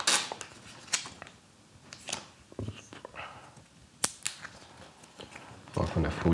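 Plastic film is peeled off a pair of 2019 Apple AirPods, giving close, intermittent crinkles, snaps and crackles, with some talking in between.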